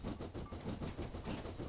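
Steam train of the Bournemouth to Brockenhurst service at Broadstone station, Dorset, rumbling steadily with rhythmic wheel clatter on the rails, moderately near and continuous throughout.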